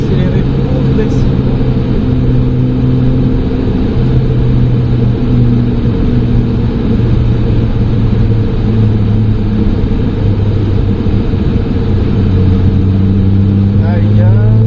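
A Ferrari 296 GTB on the Trappes race circuit drones loudly and steadily, its engine note holding close and sustained with gradual pitch shifts as it picks up speed, with no quiet gaps.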